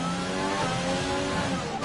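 F1 race car engine in the F1 2020 video game at the Singapore circuit, a steady high-pitched revving whine with layered harmonics, sustained and fairly even in loudness.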